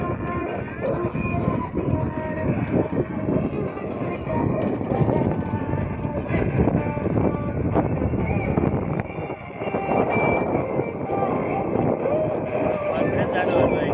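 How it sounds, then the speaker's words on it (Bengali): Strong wind blowing across a large lake crowded with boats, roaring and buffeting the microphone throughout while people talk over it. "আজকে বাতাস আছে অনেক"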